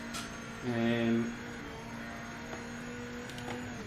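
A GT1 race car is driven around a lap, its engine a tonal whine that briefly swells and falls before settling into a faint, steady drone.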